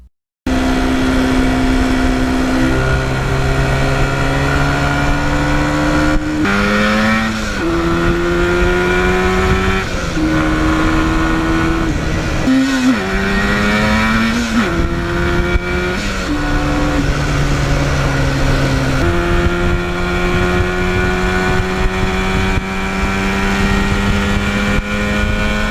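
A 1977 Yamaha RD400 two-stroke motorcycle ridden on an open road, its loud, buzzy engine rising in pitch through each gear and dropping at every shift, with repeated upshifts over a long continuous run.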